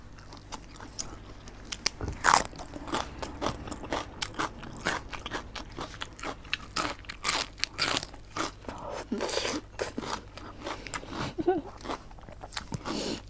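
Someone eats crunchy fried vegetable fritters close to the microphone, with loud irregular bites and crunches and steady chewing throughout, plus a few brief murmurs in between.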